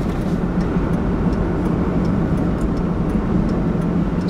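Steady, loud interior rumble of a car driving along a smooth road, a continuous low drone of engine and tire noise with no talk.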